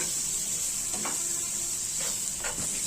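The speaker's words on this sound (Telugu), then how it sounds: "అలాగే 1/2 టీ స్పూన్ సాల్ట్ కూడా వేసుకొని ఒక 2 నిమిషాలు వీటిని కూడా వేయించుకుందాము" Green chillies and salt fry in a pan with a steady, close hiss and a few soft stirring scrapes, and no voices over it.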